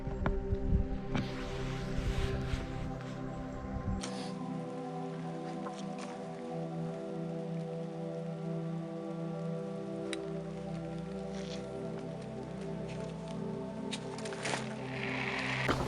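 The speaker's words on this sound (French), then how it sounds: "En plus, la pluie est au rendez-vous là." Steady rain falls on a remote fishing spot, a continuous dense patter of drops with low rumbling, and no voices over it.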